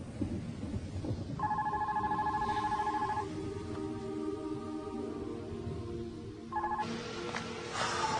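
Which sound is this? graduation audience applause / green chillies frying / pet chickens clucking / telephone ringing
telephone ringing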